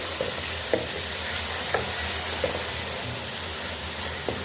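Fried onions and tomatoes are stirred in a sizzling pan, with a steady close frying hiss and a few soft scrapes of the spoon at irregular intervals.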